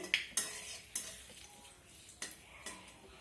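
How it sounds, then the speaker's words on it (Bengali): Panch phoron, a dry chilli and a bay leaf fry in mustard oil, a faint hissing crackle broken by a few sharp pops and spoon-against-pan clicks, heard close with no talking. "এখন তেলের মধ্যে দিয়ে দিলাম ফোড়নের জন্য পাঁচ ফোড়ন একটা শুকনো লঙ্কা আর দিলাম একটা তেজপাতা ফোড়নটাকে ভেজে নেব"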